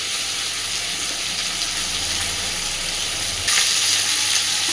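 Small shrimp fry in a pan for a pumpkin chhokka, giving a steady, close, loud sizzle and hiss that swells slightly louder partway through, with no talking.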